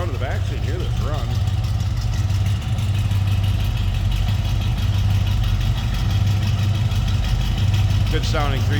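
A 1970 Chevrolet C10 pickup's 350 V8 idles at the rear of the truck, giving off a steady, even low rumble with no revving, alone and fairly loud.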